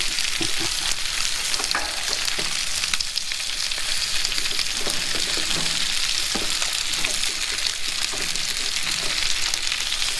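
Steady crackling sizzle of onions frying in bacon grease at a fall campsite in Arrowhead Provincial Park, continuous and close, with occasional stirring clicks and scrapes.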